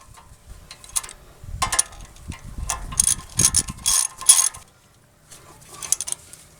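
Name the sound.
tightening Toyota Tundra brake caliper bolts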